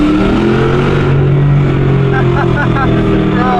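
A Ford Mustang accelerates hard in first gear, its engine a loud, close, steady drone that rises in pitch throughout.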